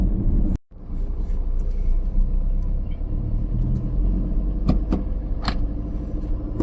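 A car driving along steadily in third gear, its engine and road rumble continuous and close throughout, with a brief dropout near the start and a few higher clicks or squeaks partway through.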